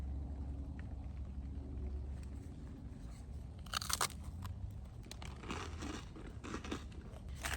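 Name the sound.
eating a crunchy freeze-dried ice cream sandwich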